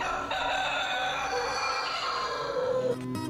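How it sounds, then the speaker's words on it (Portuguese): A rooster crows, one long drawn-out cock-a-doodle-doo that rises and then falls away, heard clearly and fairly close with no talk over it. "Acorde o seu galo."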